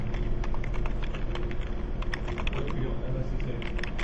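Fingers type on a computer keyboard during a Linux terminal session, a dense, steady run of close clicks and key taps lasting the whole stretch, with no speech.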